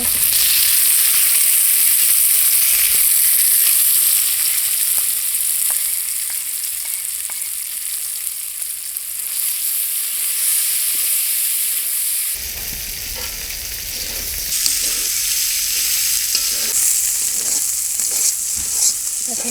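Dried fish and yardlong beans fry and get stirred in a pan over a village cookstove, a loud continuous sizzle with scraping stirs that grow busier in the second half, close up and without speech.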